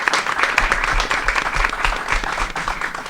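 An audience applauds a performing group at a Future Focus 2023 event, steady dense clapping filling the whole stretch with no break.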